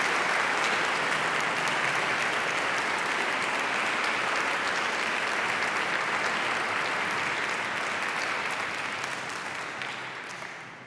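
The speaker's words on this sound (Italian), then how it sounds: "E anche per loro chiederei un applauso per il loro lavoro." Sustained applause from a gala concert audience at a choir festival, honoring the choir teachers; dense, even clapping fills the hall throughout and fades slightly at the end.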